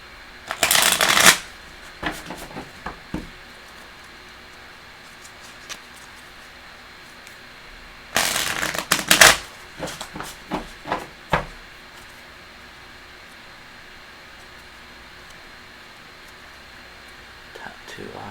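Tarot cards are shuffled in two quick, crisp riffle bursts close to the microphone, with quieter taps and handling noise between them and soft talk.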